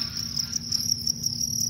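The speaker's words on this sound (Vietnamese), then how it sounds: "Đây là những con dế nó đang đẻ nè." Crickets chirp steadily at a cricket farm where they are fed banana leaves, greens and water hyacinth and lay eggs in the rearing pen; a dense, continuous high trill close by with no talk.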